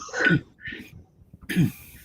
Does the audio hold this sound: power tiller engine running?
no